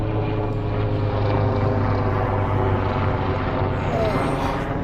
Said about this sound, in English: The emergency helicopter that's based here at Canberra Hospital.